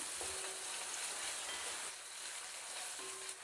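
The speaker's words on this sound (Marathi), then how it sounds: "उभा पातळ कापलेला एक कांदा आपल्याला हा कांदा तेलात हलका सोनेरी रंग येईपर्यंत परतून घ्यायचा आहे" Thinly sliced onion sautéing in hot oil on a medium flame, a faint, even sizzle and hiss with a couple of soft stirring touches, no talking.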